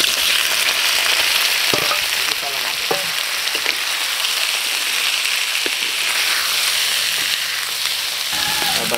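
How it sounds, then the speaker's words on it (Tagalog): Onion, ginger, garlic and chili sauté together in a hot pan, giving a dense, continuous close sizzle with scattered crackles and occasional stirring clicks throughout. "Gisa natin, sabay na natin lahat to. Sibuyas, luya, bawang at sili."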